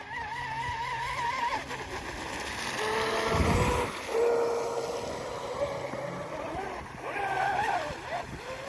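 Small radio-controlled racing boat with sponsons out on water, its motor whining and shifting pitch as the throttle is eased off, heard with a nearby voice talking.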